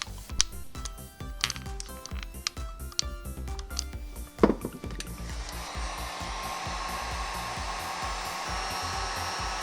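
A heat gun warming the glue on a 3rd-gen Toyota 4Runner's interior wood trim: a steady, close blowing whir starts after several seconds of clicks and clattering handling noises, then continues evenly.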